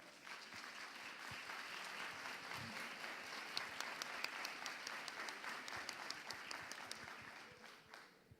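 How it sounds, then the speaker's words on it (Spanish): An audience at a general medicine congress applauds steadily throughout, a dense wash of many hands clapping that swells slightly in the middle, with individual sharp claps standing out toward the end. "Margarita, nuevamente un aplauso para ella."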